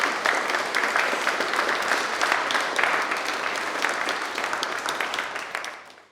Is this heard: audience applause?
yes